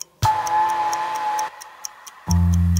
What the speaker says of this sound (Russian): Ненароком я услышал, как тикает бомба